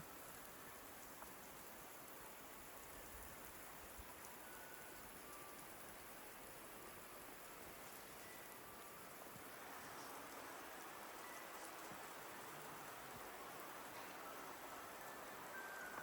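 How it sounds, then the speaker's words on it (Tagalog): Faint, continuous rushing of running water in a subzero forest in Takayama, Japan, an even hiss that holds steady throughout with no voices. "Pinarinig ko po sa inyo na may tubig po talaga."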